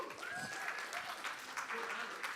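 An audience at a MagnoliaJS tech conference applauding a man's Top Gun themed costume, moderate clapping with voices and cheering mixed in.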